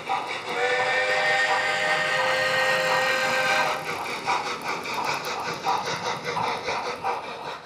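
A model steam locomotive sounds a long, steady whistle, then rolls past carriage sheds on a model railway layout with a rhythmic chuffing and clattering that continues to the end.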